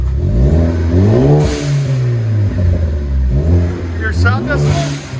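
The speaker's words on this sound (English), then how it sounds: "You can hear the blowout valve." A 2017 Ford Focus ST with an MBRP cat-back exhaust revs up and down twice, loud and close, with a blow-off valve chirp after the second rev and a voice talking over it.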